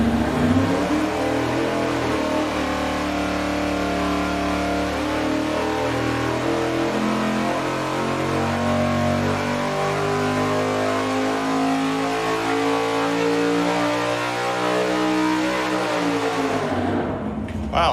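A big block Chevy 478 cubic inch engine with long 6.800 connecting rods revs on a dyno, a loud sustained roar rising and holding steady for about sixteen seconds before cutting off abruptly.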